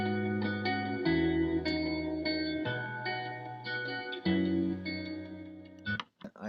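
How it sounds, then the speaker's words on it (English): Layered guitar samples form a moody hip-hop beat, sustained chords with bass shifting every second or so, steady and without vocals until a brief cutoff near the end. "I downloaded and bought some new guitar samples, layered them, and they sound like this."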